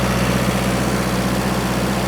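A tractor engine idles nearby at a farm where brush is being cut, giving a steady low rumble and vibration with no voices.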